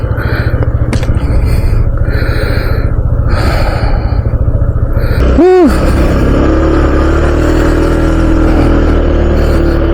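A motorcycle that had refused to start, propped on its center stand, runs with a steady engine hum throughout and a brief rising rev in the middle, loud and close with no talking.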